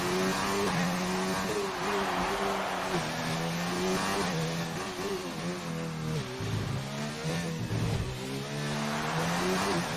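Race cars in a racing video game lapping at full speed, engines droning loud and steady with rising and falling pitch through gear changes, continuous throughout.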